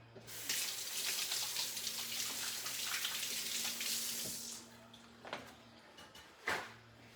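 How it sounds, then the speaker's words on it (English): Kitchen tap water runs steadily into a sink during handwashing, a soft, continuous splashing that tapers off, followed by a few faint clinks and knocks. "I'm gonna wash my hands."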